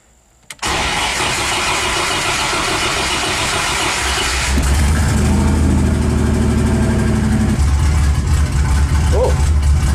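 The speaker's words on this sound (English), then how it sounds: "Oh, it's idling a little bit different." A truck's 3.9 Magnum engine, fitted with new roller rockers, cranks and catches, then settles into a steady, loud idle with a deep low rumble that roughens slightly partway through.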